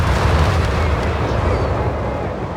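Distant bombing in Company of Heroes 3 rolls as a dense, continuous low rumble of overlapping explosions, steady and loud across the whole stretch, fading slightly toward the end.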